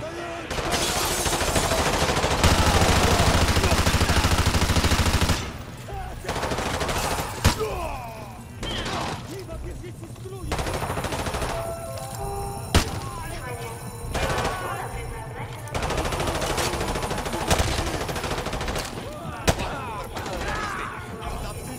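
Gunfire from the video game Call of Duty: Modern Warfare 2, remastered campaign: a dense, loud stretch of sustained shooting followed by scattered sharp single shots and short bursts over roughly twenty seconds.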